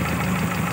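A Daihatsu Zebra engine idles steadily during carburetor tuning, a continuous close, even low hum with a slight knocking rhythm throughout, heard alone without talk.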